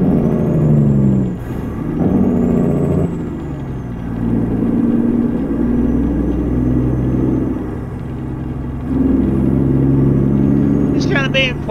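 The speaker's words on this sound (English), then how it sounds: "letting you guys sit and listen to this, this Cat C15 engine in his truck" A Cat C15 engine in a truck in American Truck Simulator drives toward San Francisco with an 18-speed transmission. A steady, loud diesel rumble drones throughout, swelling and easing as the revs shift, with a brief hiss and click at the end.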